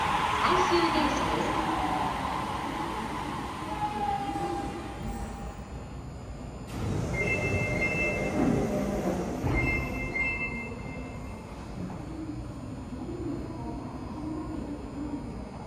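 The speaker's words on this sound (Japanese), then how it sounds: "1番ホームから福住行きが発車します。" The last Toho Line subway train for Fukuzumi pulls away from the Odori Station platform in Sapporo, a steady rumble with whining tones and wheel squeal under platform announcements and background voices.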